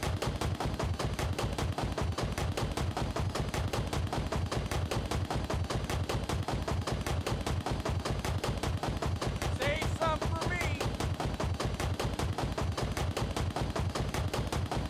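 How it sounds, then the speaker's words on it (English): Rockets fire in rapid, steady succession as a loud, relentless burst of evenly spaced shots throughout, with a short higher-pitched whistling streak near the middle of the barrage. "Oh, there go rockets."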